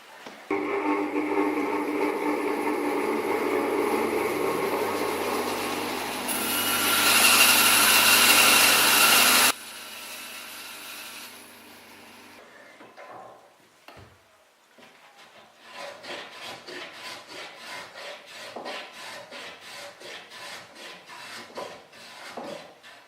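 A drill bores an angled hole in wood held in a plywood jig with wedges underneath; a loud, steady motor whine runs and stops abruptly, followed by quieter rhythmic scraping and handling noises.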